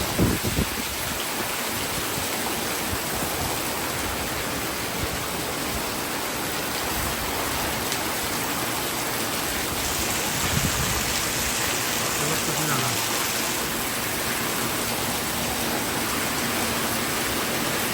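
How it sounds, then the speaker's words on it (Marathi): Heavy rain pours down steadily, a dense, constant hiss that stays loud and unbroken throughout, with no voices. "मस्त मुसळधार पाऊस पडतोय जोराचा जोराचा पाऊस आहे"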